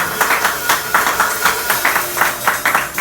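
A church congregation claps in a steady, rhythmic beat, the loud repeated claps filling the room over a continuous crowd background.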